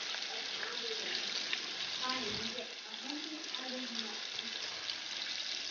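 Butter chicken frying crisply in a pan, a steady broadband sizzle running throughout at moderate level, with faint speech-like tones drifting over it.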